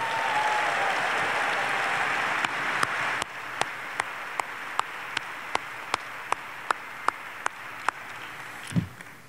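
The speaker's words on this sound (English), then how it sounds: "how about one more round of applause for our great, great Secretary of State," Conference audience applause at the AIPAC 2020 Policy Conference, a steady crowd clapping that thins out, with a series of sharp, evenly spaced knocks or taps sounding through it.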